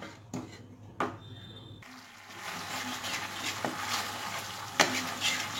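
Tamarind water goes into frying lentils for a white dal. A couple of metallic clinks come first, then a steady close sizzle with soft scraping stirs building up underneath.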